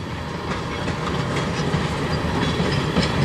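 A CSX freight train of tank cars, maybe with some hoppers, rolls past in Sarnia during a snowstorm, giving a steady, fairly loud rumble with clicking wheels throughout.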